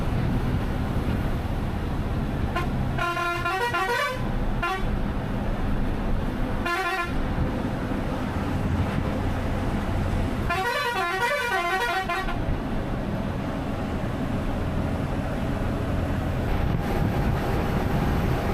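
A Jayavin sleeper bus rumbles along the road on a Trivandrum to Pondicherry ride under a steady engine drone, its horn blaring in several long and short honks, with nearby traffic horns joining.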